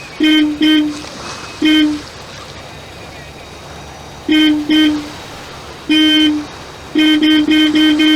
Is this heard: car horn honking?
yes